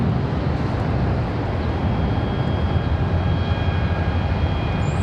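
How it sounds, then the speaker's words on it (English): An Airbus A321 jet takes off at Charlotte Douglas airport, a steady, broad, loud engine roar with a faint high whine, continuous and without talk. "Looks like an A321"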